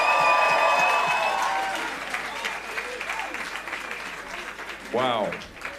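Audience at the Royal Albert Hall applauding and cheering after a live performance, a dense crowd wash that fades from loud to softer, with a short burst of louder cheering near the end.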